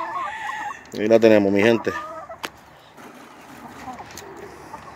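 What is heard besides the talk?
chickens clucking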